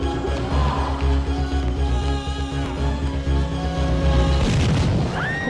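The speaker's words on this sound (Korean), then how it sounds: "폭발과 함께 폴라리스 공장은 불길에 휩싸였죠." A factory blowing up in a horror film: a deep, sustained rumbling boom rolling on for several seconds, swelling into a louder burst near the end, with a faint rising tone trailing after.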